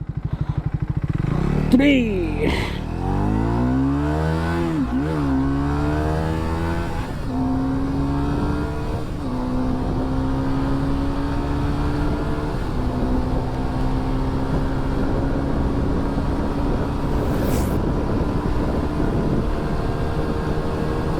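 A Triumph Tracker 400 motorcycle accelerates hard from a standstill to 100, its engine revving up through a series of gear changes into a steady high drone, close and loud, with a voice briefly counting at the start.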